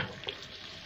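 Butter sizzles and bubbles as it is added to cooking caramel in a hot pan while a utensil stirs, making a brief scrape amid a steady frying hiss.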